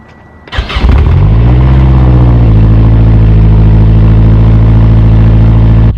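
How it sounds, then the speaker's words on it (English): A Mazdaspeed6 engine cold start after sitting for hours: it cranks briefly, catches and roars into a loud, steady high idle that holds throughout, close by. "Let's get a cold start of this beast, because it's been sitting for hours now."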